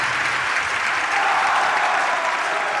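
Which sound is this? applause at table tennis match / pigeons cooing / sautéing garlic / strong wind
applause at table tennis match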